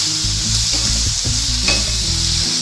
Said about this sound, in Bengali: এবার আমি খুব ভালো করে এটাকে কষাবো মিনিট পাঁচের মতো কষাবো